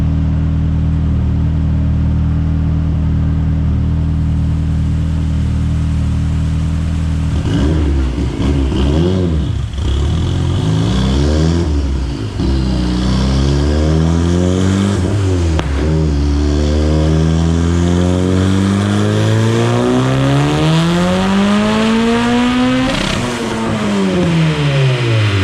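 A Mitsubishi Evo 9 with a built 2.4L engine accelerates hard on a street run, a loud close drone that idles steadily, then climbs through repeated rising revs with brief dips at gear changes, pulling high before easing off.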